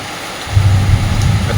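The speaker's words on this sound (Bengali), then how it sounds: "যেরকম মেঘ ডাকছে সেরকম প্রায় ভোরবেলা থেকে বৃষ্টি হচ্ছে।" Heavy rain pours down steadily in a storm that has lasted since dawn, while a deep roll of thunder swells in partway through and rumbles on beneath the close, dense hiss of the downpour.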